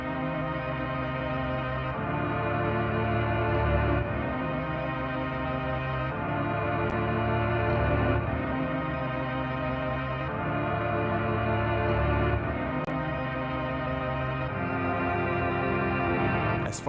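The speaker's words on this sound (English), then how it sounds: "I decided to start off with some strings for that big cinematic effect." Cinematic string chords carry a melody within a beat, with dense, sustained layers changing roughly every two seconds at a steady, full level. No voices are heard.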